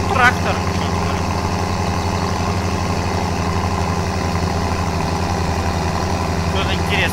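A tractor engine in the BeamNG driving game runs at a steady, low, droning idle, loud and unchanging throughout, with faint chirpy sounds at the start and end.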